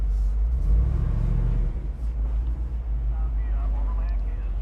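A 2021 Jeep Wrangler Rubicon 392 V8 crawls over trail rocks, its engine giving a loud, close, continuous low rumble with wind buffeting on the microphone.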